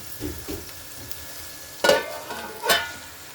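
Onions with turmeric frying in a pan, with a low continuous sizzle, a few soft stirring scrapes, and two sharp, louder sizzling bursts near the end, heard close with no talking.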